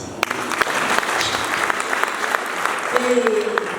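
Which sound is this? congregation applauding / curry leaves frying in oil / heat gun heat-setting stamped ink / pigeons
congregation applauding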